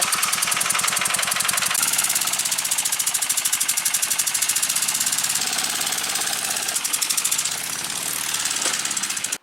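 A small go-kart engine runs up close with a loud, steady, rapid chugging pulse, rough and knocking like a single-cylinder motor at a fast idle, holding continuously throughout with no voices.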